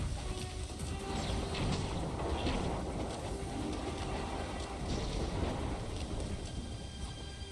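Thunder and storm noise from the video game Ninja Gaiden 2 Black: a steady, loud, dense rumble with broadband crackle that runs the whole stretch, with no clear single claps and no voices.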